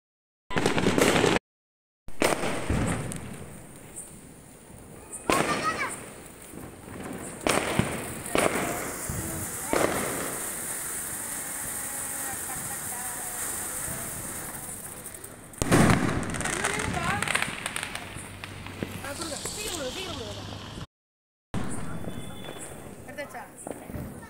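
Diwali firecrackers and fireworks burst in a long rapid crackle of pops and bangs, loud and close, with a few brief pauses and a couple of heavier blasts.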